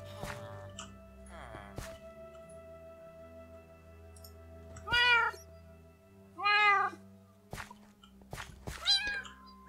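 Cats in the video game Minecraft meow several times, three clear distinct meows spaced a few seconds apart over a quiet background with soft clicks.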